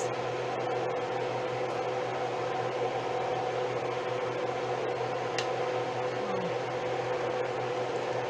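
A kitchen vent fan runs steadily while potato soup cooks, a constant broadband whoosh and hum that stays even throughout, with faint kitchen movements beneath it.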